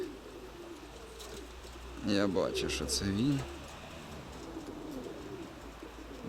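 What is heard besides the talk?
pigeon cooing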